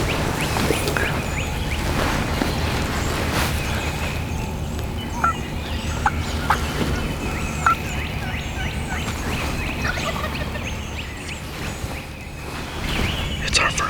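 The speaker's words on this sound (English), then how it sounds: "we got turkeys gobbling all around us" Wild turkeys gobble in the Georgia spring woods, with scattered short calls coming from several directions at a distance, under ongoing outdoor background noise and some talk.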